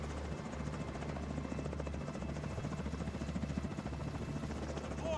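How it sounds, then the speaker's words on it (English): An enemy helicopter in the video game The Division 2 thrums with a steady, loud rotor chop and a low engine drone throughout, heard alone without talk. "Enemy helicopter approaching."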